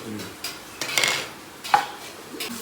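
Rice being stirred in ghee and butter in a pot, a spoon scraping and clinking against the metal in a few distinct knocks over a quiet background.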